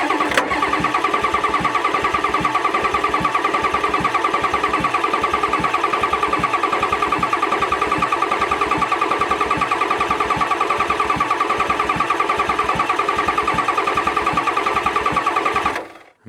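An old dump truck's diesel engine cranks steadily on the starter without catching. The rapid rhythmic churning is loud and continuous for about sixteen seconds, then cuts off, and no one speaks.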